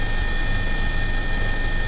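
A scheduled passenger helicopter cruises over water in Italy, its engine and rotor making a steady, loud, continuous drone with a constant whine and no breaks.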